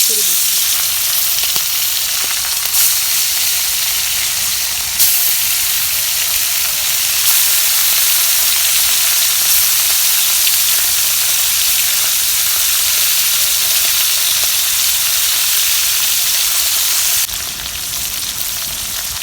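Small chanda fish fry in hot oil in a pan over an earthen clay stove, giving a loud, continuous, close sizzle that hardly changes, with a brief shift in tone partway through and near the end.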